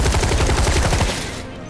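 Rapid gunfire in Final Fantasy VII Remake, a loud burst of fast repeated shots that cuts off abruptly after about a second, leaving a brief quieter tail.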